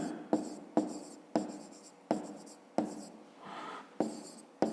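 A pen writes on paper during a fifth-grade maths exercise, a series of sharp tap-like onsets each followed by fading scratchy strokes, close and fairly quiet, with one longer smoother stroke near the end.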